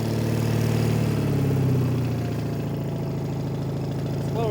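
A Case trencher engine idles close by with a low, rough, steady rumble, easing slightly lower in speed partway through, with knocking pulses in the drone.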